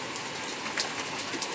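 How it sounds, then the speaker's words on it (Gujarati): Rain falls steadily in Botad, a dense even patter of drops on surfaces with a few sharper splats, heard alone without voices. "બોટાદમાં વરસાદ આવવાનું ચાલુ થઈ ગયું છે"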